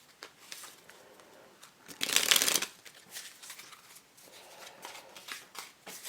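A Bicycle Zombie Riders playing card deck is fanned and riffled, a soft papery rustle that swells into one loud, dense burst of flicking cards before settling back into light handling noises.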